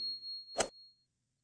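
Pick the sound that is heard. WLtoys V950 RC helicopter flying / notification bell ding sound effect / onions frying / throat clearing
notification bell ding sound effect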